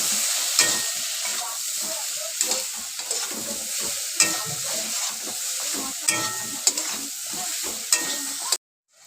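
Ridge gourd sizzles in a pan with turmeric and cumin powder while being stirred, a steady close frying hiss broken by regular spatula scrapes and knocks, ending abruptly.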